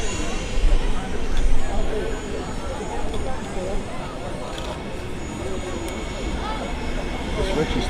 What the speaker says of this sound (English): Ryanair just departing there as well.